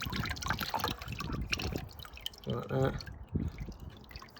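Engine oil drips and trickles while being drained from a Honda CBF 600 motorcycle, giving short liquid splashes and patters close by, with someone speaking briefly over it.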